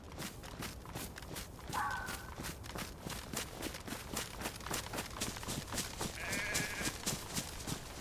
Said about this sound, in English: The sheep's over there.